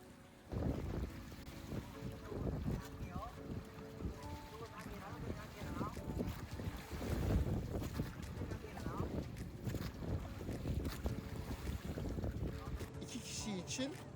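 Sailboat out at sea off Boracay at sunset, with steady wind buffeting the microphone, water sloshing against the hull and low rumbling throughout, and voices faintly present.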